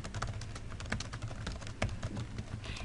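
Fingers type a message on a computer keyboard, a steady run of quick, close, light key clicks with no voices.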